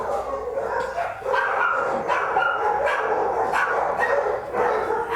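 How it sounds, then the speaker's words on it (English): Several small dogs barking and yipping inside an animal shelter kennel, a busy overlapping chorus of close, loud barks with some whimpering, continuing throughout. "These are the small dogs right here."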